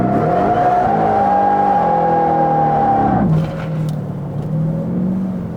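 A supercharged Ford Raptor R with a Whipple build revs hard, one loud continuous engine roar rising in pitch while the tires spin, then drops abruptly to a rougher, lower idle-like drone.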